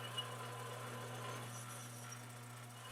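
Metal lathe parting off a workpiece with a parting blade, RPM rising as it feeds in: a steady mechanical hum with tonal motor drone and faint high cutting noise throughout, no talk.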